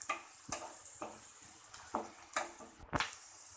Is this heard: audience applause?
no